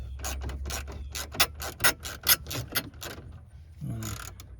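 A ratchet clicks in quick bursts while removing dashboard screws in a Ford Focus, with rhythmic close-up ratcheting strokes, a few louder knocks, and short pauses between sets.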